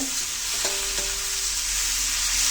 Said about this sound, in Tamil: தக்காளி சேர்த்து சாஃப்டாக வதங்கி வரட்டும்.